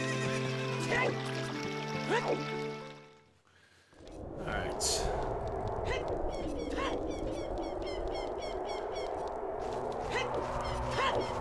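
A horse whinnies in Ocarina of Time, a rising, wavering neigh heard clearly over steady ambient trickling and background sounds, with a brief quiet gap early on.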